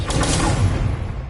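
A Confringo spell cast in Hogwarts Legacy: a short, loud, dense burst with an explosive attack that decays into a rumbling tail, with no voices.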